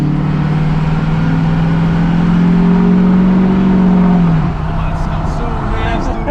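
A Duramax diesel pickup truck being driven, its engine holding a steady low drone that rises slightly then drops off after a few seconds, heard from inside the cab.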